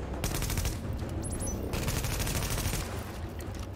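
Sustained automatic gunfire in the shooter The Division, a continuous loud rattle of fast shots with a few metallic pings partway through and no talking.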